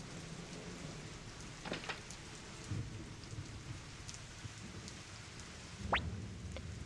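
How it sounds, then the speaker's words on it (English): Steady rain falls in the Suikoden video game, a constant soft hiss with scattered droplet ticks and a few faint rumbles underneath. It stays fairly quiet throughout. "I don't like this rain."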